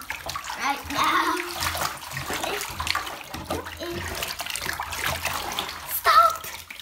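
Water swirling and splashing in a bathtub as it is stirred by hand for a bath product, a steady wet sloshing close by with someone talking over it.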